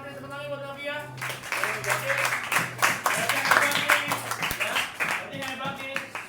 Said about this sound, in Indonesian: tepuk tangan buat Nadia